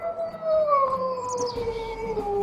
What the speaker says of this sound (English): I think that's the first howl you had in the game before they added all these new ones